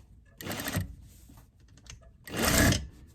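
Sewing machine understitching a garment seam, two loud close bursts of rapid mechanical stitching separated by a quieter pause, with fabric held taut.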